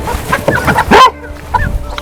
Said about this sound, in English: The dog is scaring the chickens.